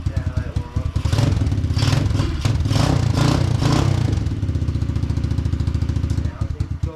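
A Powersportsmax Amazon Hawk 125 dirt bike engine idles loud and close while warming up, its rapid single-cylinder putter steady with slight rises in pace, voices talking over it.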